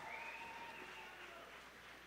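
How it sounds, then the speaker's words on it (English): Steady applause for women wrestlers at an amateur wrestling show, a modest crowd clapping continuously at moderate volume with a thin whistle-like tone near the start, no break in the clapping. "on fait un bon applaudissement pour nos lutteuses"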